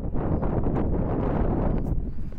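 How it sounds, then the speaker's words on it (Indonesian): Strong wind at Brighton Beach in Melbourne buffets the microphone in loud, uneven gusts over a couple of seconds, with no talk. "Angin kuat lah."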